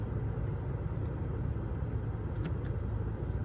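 Cars passing on a dark back road, a continuous low engine and tyre rumble heard from inside a vehicle, fairly quiet and steady, with two brief bright ticks partway through and no talking.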